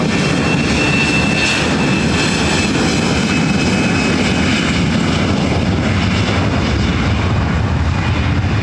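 A Boeing 777 heavy jet on final approach to land at LAX, a loud continuous roar of engines with a broad rumbling wash and steady whine, close and unbroken throughout.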